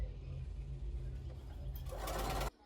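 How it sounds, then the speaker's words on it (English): A sewing machine stay stitching the waist of a skirt runs in a steady, close mechanical whir for about two and a half seconds before stopping abruptly. "so I am stay stitching the waist part of the skirt"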